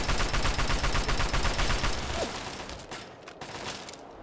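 Rapid sustained gunfire rattles loudly in Fallout 3 for the first two seconds, then tapers to scattered, quieter shots and distant mechanical noise.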